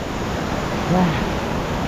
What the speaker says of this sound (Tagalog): tubig na bumabagsak galing doon sa falls